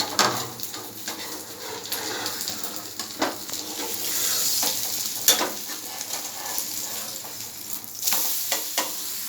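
Oil sizzles in a hot pan while onion pesarattu is cooked, giving a steady close frying hiss with soft stirring scrapes and a few brief clicks.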